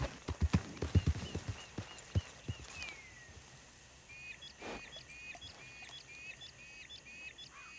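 A horse's hooves clip-clop in Red Dead Redemption 2, a quick run of close, sharp hoofbeats for the first couple of seconds that then fades into quiet ambience with faint birdsong.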